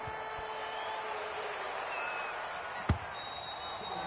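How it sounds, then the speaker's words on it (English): A football kickoff in the Madden 21 video game, Jets versus Seahawks: one sharp, close thump of the kick stands out over a steady wash of stadium crowd noise and commentary ambience. "Set now to kick this one away, and off it goes."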